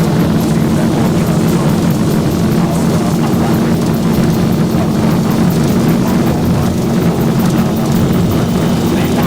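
Jet engines of a Zibo-modded Boeing 737 in X-Plane 12 run at takeoff thrust, a steady, loud, continuous roar with a strong low hum that holds unbroken throughout.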